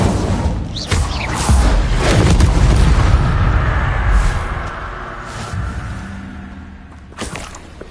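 Incendio fire spell cast in Hogwarts Legacy, loud booming blasts with whooshing fiery bursts, several heavy impacts in a row swelling and fading, then a final sharp burst near the end.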